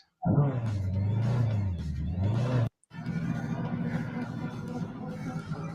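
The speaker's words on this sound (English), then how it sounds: "Just put a motorbike engine into the car." A car fitted with a motorbike engine idles with a loud, buzzy rumble that rises and falls, cuts out briefly, then restarts into a steady, rough running note at close range.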